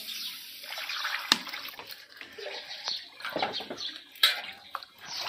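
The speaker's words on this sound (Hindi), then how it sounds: "चावल धो रहे तानी" Rice is washed by hand in water, with soft irregular sloshing and splashing, a couple of sharp knocks against the vessel, fairly quiet and close.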